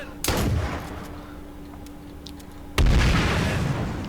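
Two loud blasts burst out in the H1Z1 survival video game, one near the start and a heavier one near the end, each followed by a rumbling decay under a steady background tone.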